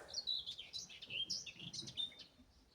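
A nightingale sings in a rain-washed summer garden, a run of bright whistled chirps and trills, moderately close over a quiet background.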